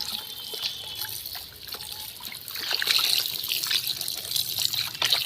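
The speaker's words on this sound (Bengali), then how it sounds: "একদম কলের জল ছেড়ে দিচ্ছি" Tap water runs steadily into a basin while flour dough is squeezed and washed by hand, a continuous near trickle and splash that swells slightly louder midway, with no talking.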